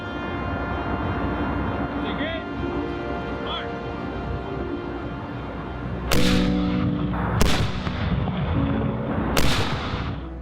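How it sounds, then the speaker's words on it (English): A reproduction 6-pound cannon fired at a living-history fort, three loud sharp booms spaced a second or so apart, each with a rolling echo, after a stretch of outdoor crowd murmur. "We also fire our reproduction 6-pound cannon."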